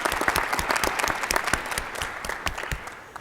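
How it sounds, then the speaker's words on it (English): A university faculty senate forum audience applauds in sustained, fairly loud clapping with distinct individual claps audible, easing slightly toward the end. "Can we give a round of applause to all of those individuals?"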